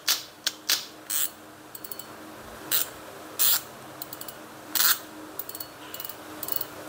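A used Japanese Shimano or Daiwa fishing reel being worked by hand, its mechanism giving crisp irregular clicks, ratcheting bursts and snaps of the line bail at close range, with no talk.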